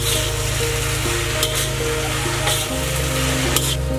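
Fried soybean chunks sautéed in a pan for soya chilli, giving a steady, close sizzle with stirring scrapes throughout and a faint tonal hum beneath.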